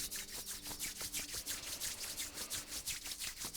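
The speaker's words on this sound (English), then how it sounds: "Just bring your palms in front of you and rub them together. Create a really warm friction between your palms." Palms rubbed briskly together to build warmth during a gentle postnatal yoga session, a quiet, even run of soft swishing strokes repeating alone.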